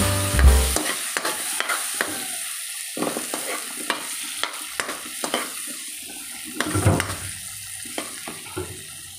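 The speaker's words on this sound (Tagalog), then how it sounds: "Lagay na rin natin yung potato and carrot." Potato and carrot pieces frying for pork-leg kaldereta, a steady sizzle in the pan broken by repeated sharp scrapes and clacks of a spoon stirring, close and clear with no talk.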